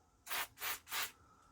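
Three short hissing bursts of spray lubricant aimed into the mechanism of a Thorn 8940 VHS recorder during servicing, each about a quarter second long with brief gaps, close and fairly loud.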